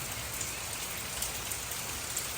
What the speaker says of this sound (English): And it just is pouring rain.